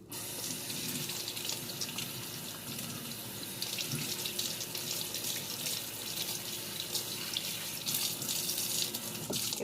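Tap water runs steadily over two green onions held under the stream at a kitchen sink, a continuous close splashing hiss with small shifts as the stalks move through the flow.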